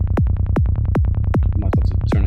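Dark forest psytrance bass synth patch built in Serum, a loud, beefy run of rapid rhythmic bass plucks with sharp attacks pulsing steadily, brighter fizzy textures creeping in toward the end.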